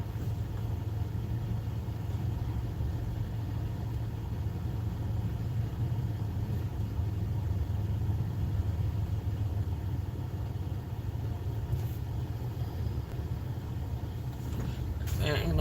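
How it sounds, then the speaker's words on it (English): Road traffic rumbling steadily from inside or beside a car, a low constant engine drone running the whole time with a brief louder swell near the end; no talk. "This traffic is insane."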